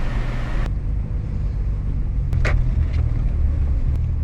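Cabin drone of an old car being driven, a heavy low rumbling engine likened to a tractor, loud and constant throughout with a couple of brief rattles or clicks over the steady roar.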